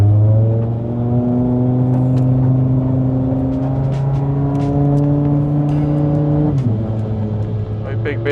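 A BMW with a V10 engine and DCT gearbox is driven gently in D mode, producing a steady, loud engine drone throughout with a pitch shift partway through as it changes gear.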